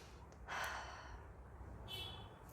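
A deep breath drawn in before speaking, a single audible inhale of about a second, close and fairly soft, followed by a brief quiet hiss.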